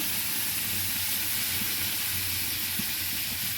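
Mung dal poured into hot oil with fenugreek seed tempering over low heat, giving a steady, loud, close sizzle and hiss throughout with no voices.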